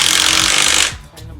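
A power impact tool rattles hard against car wheel lug nuts during a brake and rotor job, one loud sustained burst that cuts off abruptly, followed by quieter clunks.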